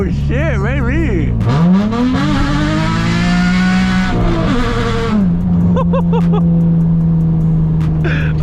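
A straight-piped Nissan 350Z roars loudly from inside the car, its engine revving up, dropping between gears and climbing again in long, raspy sweeps.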